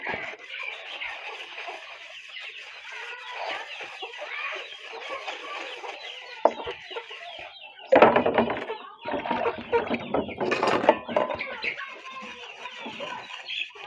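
Chickens cluck and squawk continuously nearby, busier and louder in the second half, with faint movement noise in the background.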